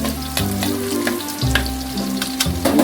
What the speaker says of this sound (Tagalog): siyempre unahin natin yung ating igigisa yung ating bawang